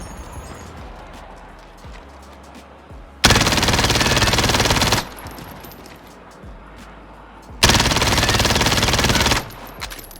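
A MAC-10 submachine gun fires in a video game, two loud, close, sustained automatic bursts, each lasting under two seconds, separated by quieter clicks and shuffling.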